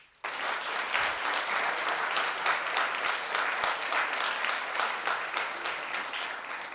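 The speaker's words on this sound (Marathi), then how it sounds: "सगळ्यांनी आपण टाळ्या वाजवून त्यांचं अभिनंदन करूया" An audience at a Marathi talk event bursts into applause, a dense, sustained wash of many hands clapping that starts abruptly and holds steady throughout, with no voices over it.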